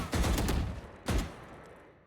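Gunfire from a video game arena shootout, with a rapid burst of shots, a short gap, then a second burst that trails off into echo, loud and close.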